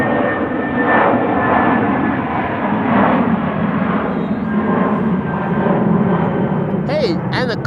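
A British Airways jet departing Amsterdam Schiphol for London Heathrow, a steady loud roar of jet engines at takeoff thrust, close and sustained, with someone talking over it.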